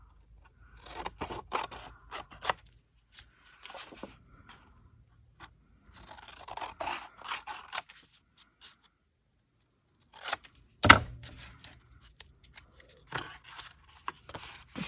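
Scissors snipping paper journal tags, close and quiet, in short bursts of crisp cuts separated by pauses, with one louder sharp snap near the end.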